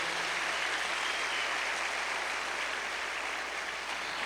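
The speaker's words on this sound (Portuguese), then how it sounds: "Dê uma salva de palmas a Ele bem forte" A church congregation at a seminar session clapping for a speaker, a continuous, even wash of applause that sounds somewhat distant and soft.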